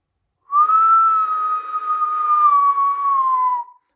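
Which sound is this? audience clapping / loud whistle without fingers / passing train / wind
loud whistle without fingers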